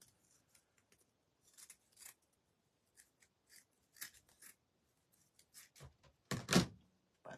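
Scissors snip a Halloween dress wreath's trim on a triangle board, with sparse, quiet cuts scattered across the stretch and a louder, longer snip near the end.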